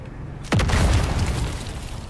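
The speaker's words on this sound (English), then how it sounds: "Who threw that nade?" A grenade blast in the game Dune: Awakening, one sudden loud boom with a falling whine, then a long rumbling tail of debris and noise.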